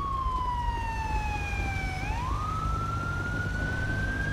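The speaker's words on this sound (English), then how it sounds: "I mean, the siren is like on somewhere over here." Police car siren in the GTA 5 video game wails in a slow, continuous falling then rising sweep, loud and steady over low traffic rumble, with no speech.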